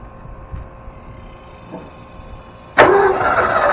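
A 1972 Ford Bronco engine catches and fires on its first start in 20 years: after quiet cranking-era background with a few small clicks, it bursts into a loud, sustained rough running note close by.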